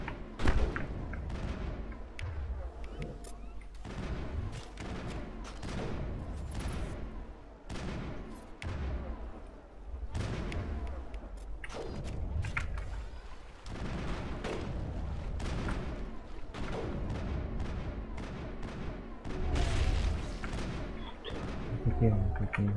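Gunfire crossfire in the video game Mass Effect, repeated sharp shots and thumps in irregular bursts through the whole stretch, fairly loud, with voices talking intermittently underneath.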